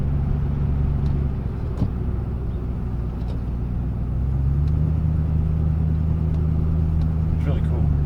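An old Plymouth car drives slowly with a steady, close engine rumble and low drone that holds throughout, rising slightly in the second half.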